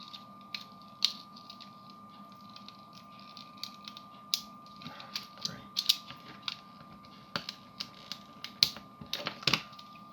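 Small screws being undone on a G1 Optimus Prime model, a series of light, sharp clicks and scrapes scattered irregularly up close against a steady low hum, with no talking.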